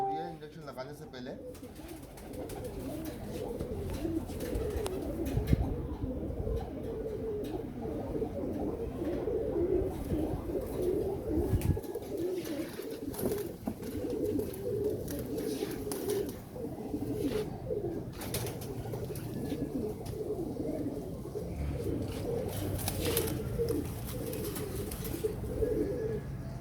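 Several pigeons coo softly and repeatedly close by, a low continuous murmur of calls with occasional faint rustling.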